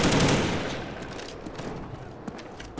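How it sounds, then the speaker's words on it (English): Loud blasts of gunfire in Call of Duty: Black Ops, a heavy opening boom that fades into a rattle of scattered shots and a few sharp cracks toward the end. "Shotgun to the face."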